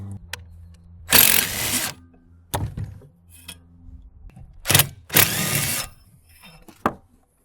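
Power tool bursts remove bolts from an air compressor being scrapped: several loud, close whirring runs of about half a second to a second each, separated by quiet pauses and clinks of handling.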